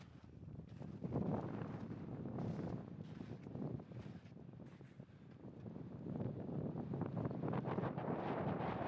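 Strong wind blows through a snowy mountain gully, buffeting the microphone in a continuous, fluctuating roar that swells and dips without pause, alone with no one talking.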